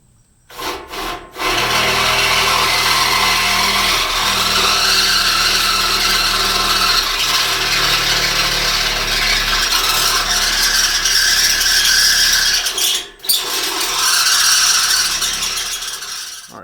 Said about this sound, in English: We're going to go ahead and use the stepper bit to get our bumper holes up to where they need to be.